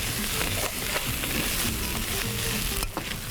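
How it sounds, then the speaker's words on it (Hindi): Unpeeled carrot, onion, garlic and ginger sauté in a pan for fish stock: a loud, steady sizzle close by, with scraping stirs now and then. "बस थोड़ा सा मैं इसको सौते करूँगी।"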